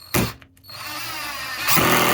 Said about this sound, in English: Make sure that you drill a few pilot holes so that you don't crack the wood.